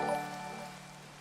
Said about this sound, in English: Dude, it's always raining here.